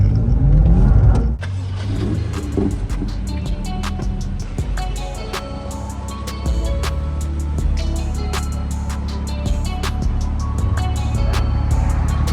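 A BMW M2 engine starts with a rough burst, then runs steadily as the car drives along, accompanied by intermittent clicks and ticks, close and fairly loud.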